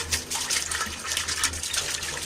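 Water poured into a container while preparing a herbal soak, a continuous close splashing gush with bright hissing texture and slight pulsing, heard alone without talk.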